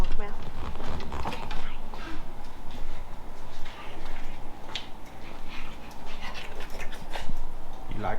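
A dog pants rapidly inside a 1917 Ford Model T on a countryside drive, quick rhythmic breaths up close with a faint whimper, over engine rumble and some talking.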